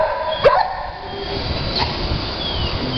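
A dog gives a single sharp bark up close, followed by quieter whining and faint room noise for the rest of the moment.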